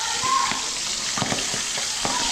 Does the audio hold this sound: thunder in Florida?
no